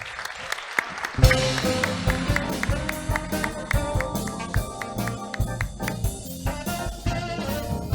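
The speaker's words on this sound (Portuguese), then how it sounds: "Uma salva de palmas para eles." A live audience at a panel session claps in sustained, dense applause with sharp individual claps standing out, loud and continuous throughout.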